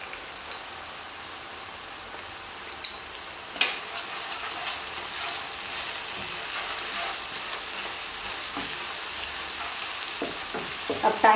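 Asafoetida dropped into hot oil in a home kitchen, a steady close sizzle and fry with a few sharp clinks of a utensil against the pan and occasional stirring scrapes, no talking.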